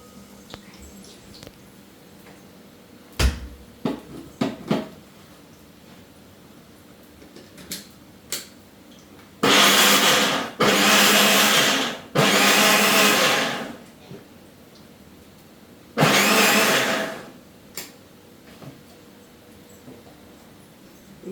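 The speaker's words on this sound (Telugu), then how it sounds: "మిక్సీ పట్టేసి వచ్చేస్తాను" A kitchen mixer grinder whirs in four loud bursts of about one to two seconds each, with short gaps between, preceded by scattered clicks and knocks of the jar being handled.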